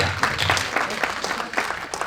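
A short burst of applause from a crowd, steady clapping throughout with no clear voices over it.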